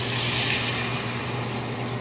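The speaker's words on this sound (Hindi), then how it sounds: "फिर हम थोड़ा सा पानी ऐड करेंगे" A small splash of water pours into a pan while Maggi noodles are being made for a child, giving a steady, close hiss of running liquid that lasts about two seconds with no talking.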